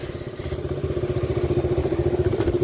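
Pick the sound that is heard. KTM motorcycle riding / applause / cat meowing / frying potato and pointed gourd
KTM motorcycle riding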